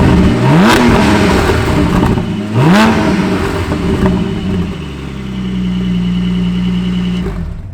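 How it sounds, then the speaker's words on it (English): A 2020 Porsche 718 Spyder fitted with a Brooks Racing exhaust blips loudly and close by twice in sharp revs, then settles into a steady, rumbling idle before cutting off. "This has a Brooks Racing exhaust system, which sounds, well, let's hear it."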